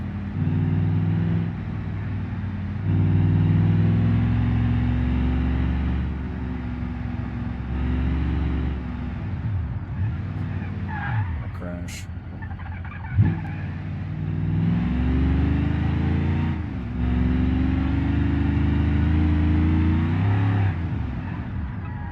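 A modded truck in BeamNG.drive revs hard through a Flowmaster exhaust, a deep, loud engine drone rising and falling in repeated throttle blips and gear changes, close up with no talk.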